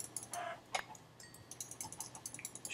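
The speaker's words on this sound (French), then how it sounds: "Pourquoi c'est dur de toucher les poules?" Chickens clucking in a video game, a few short, quiet bird calls and clucks scattered over a faint background, with no talking.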